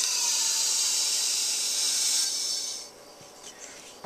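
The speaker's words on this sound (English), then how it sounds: "And this is compressed air, compressed gas. Screw that on and you'll hear it." Compressed gas hisses loudly and steadily into a whipped cream maker for about two and a half seconds, then drops off to a quieter residual hiss with small clicks.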